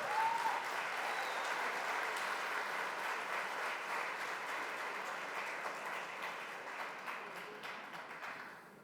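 Sustained applause from an audience fills the whole stretch, steady and dense, tapering slightly toward the end.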